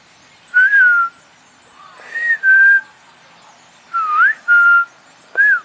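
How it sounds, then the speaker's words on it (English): A person whistles up at a squirrel in a tree outdoors, five short clear rising and falling whistled notes in separate bursts with brief pauses between them, fairly loud and close with no talking. "It's not a bird, I whistle at it."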